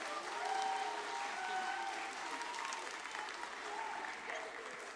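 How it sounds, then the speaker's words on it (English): Church congregation at a family service applauding steadily, a soft, even wash of many hands clapping heard from a distance with faint voices mixed in. "we need to give Debbie another round of applause now she's standing up"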